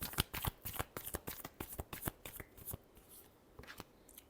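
Tarot cards being shuffled in a rapid run of crisp riffling slaps and flicks, close and fairly quiet, easing off toward the end with no talking.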